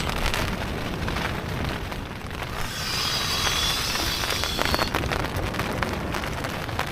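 Storm rain and gusting wind beat steadily on a tent, a dense, continuous close-up hiss and patter with no pauses.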